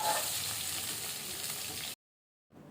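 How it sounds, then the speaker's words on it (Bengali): Fish, bhetki marinated only in salt, frying in a pan with a steady close sizzle for about two seconds before cutting to silence, then faintly resuming. "ভালো করে এপিট ওপিট করে একটু ভেজে নেব"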